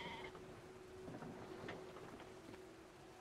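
Sheep bleat softly in the video game Brothers: A Tale of Two Sons, faint calls mixed into a rain-like ambient wash with a low steady tone beneath.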